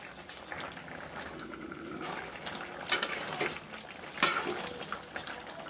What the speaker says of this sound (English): Now I will let the curry cook